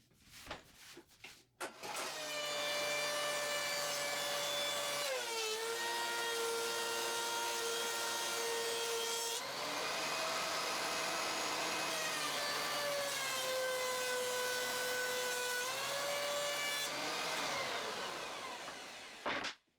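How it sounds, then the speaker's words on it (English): A thickness planer runs loud and steady while 1x4 boards are fed through it in a woodshop, the high whining cut rising and falling across two long passes with a short break between them. "Bring those 1x4s to the planer and get them cleaned up."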